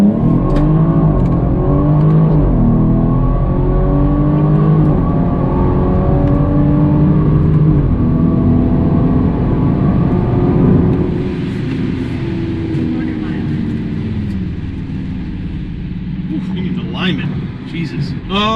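A modified BMW 340i accelerates hard on a quarter-mile run, heard from inside the cabin. The engine note climbs through several upshifts, then drops off as the throttle lifts near the end, leaving a quieter road hum.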